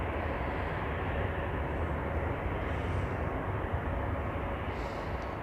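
An airplane taxiing at Zurich Airport on a winter day, a steady low engine rumble holding constant and fairly distant throughout, with no voices.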